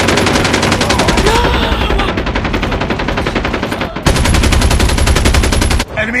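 Rapid automatic gunfire in Call of Duty Mobile, loud sustained bursts of machine-gun fire broken by brief pauses.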